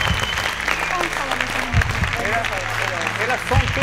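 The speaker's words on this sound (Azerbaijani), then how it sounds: "Alqışlar. Alqışlar." Audience applause at a team quiz show as scores are announced, with clapping running under a host's voice, moderately loud and continuous.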